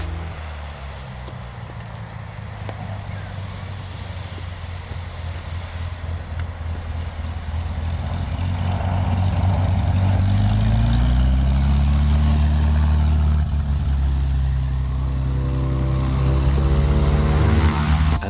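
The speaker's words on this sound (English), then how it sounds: "Plane landing on a small grass airfield in the jungle." A propeller-driven airplane comes in to land on a small grass airfield in the jungle, its engine drone steady at first, then growing louder and nearer with rising and falling pitch as it passes close by.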